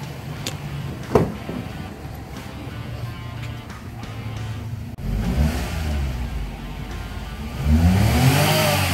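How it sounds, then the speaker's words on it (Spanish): A 2016 Daihatsu Mira engine, fresh from a spark plug change and throttle body cleaning, idles with a low hum and then revs up twice, each burst louder and rising in pitch, heard up close. "Escuchen cómo suena ese motor."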